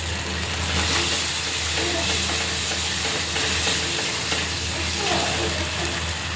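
Raisins fry in a pan with oil and yogurt, a steady crackling sizzle close by that runs without a break the whole time, with no talking over it.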